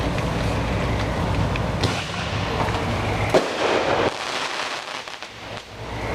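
Neighborhood fireworks burst outdoors in the wet, a dense crackling and popping barrage with booming explosions rolling through steady rain-like hiss, loud and sustained with no talking.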